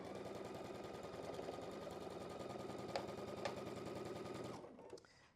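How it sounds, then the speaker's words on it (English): A domestic sewing machine stitches a nested quilt block seam in one steady, rapid whirring run of about four and a half seconds, close and moderately quiet, then stops abruptly with a couple of soft clicks. "This one has a nested seam, so that one's going to come together really easily. Go ahead and sew it."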